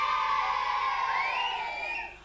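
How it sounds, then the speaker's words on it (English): Crowd of children cheering and shouting, a sustained loud mass of high-pitched voices with whoops that fade out at the end. "give them all a cheer"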